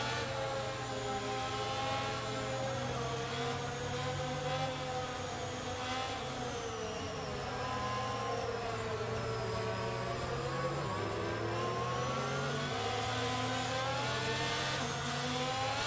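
In the F1 22 video game, a safety car engine hums with a steady sustained drone that rises and falls in pitch through long smooth sweeps, loud and continuous with no talking.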